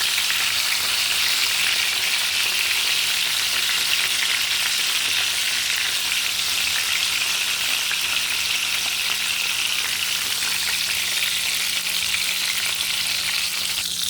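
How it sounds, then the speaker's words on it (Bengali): Eggplant pieces shallow-frying in hot oil for a tilapia curry, giving a loud, steady, unbroken sizzle that holds evenly throughout with no voices. "আমি এখন দিয়ে দিচ্ছি বেগুনগুলো। বেগুনগুলো হালকা ভেজে নিব আমি।"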